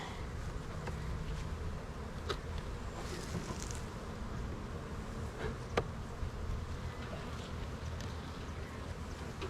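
A small honey bee colony gives a steady, close, continuous buzz around its hive, dotted with brief louder flicks as single bees pass by, and nobody speaks.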